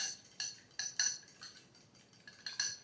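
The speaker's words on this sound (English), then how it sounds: "whipping up or beating up 2 eggs here" A utensil whisks two eggs in a bowl, making quick clinking taps against the side in irregular bursts, light and close, with no talk.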